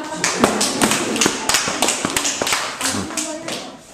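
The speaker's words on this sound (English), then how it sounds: "Give them a round of applause." A small group at a home prom gathering claps unevenly, with sharp individual hand claps and taps sounding close and distinct, loose in rhythm, with some voices in the background.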